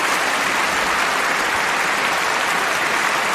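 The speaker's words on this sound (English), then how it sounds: "Let's go with a full applause for this guy" Loud, dense applause from a live audience rushes on without a break, a thick wash of clapping close to the microphone that stays steady and at full strength throughout.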